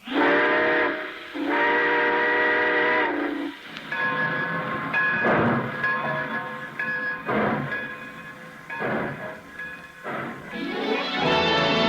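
A train whistle sounds in long loud blasts, followed by a chugging train pulling out with more repeated whistle toots, presented as a radio sound effect, with no talk.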